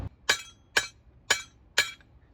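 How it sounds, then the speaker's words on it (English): Hammer striking a steel spindle to knock a worn ball joint loose on a T1N Sprinter van: four sharp metallic clanks, evenly spaced about half a second apart, close and loud. "we're gonna hammer this side to get it to pop through, break free from the spindle"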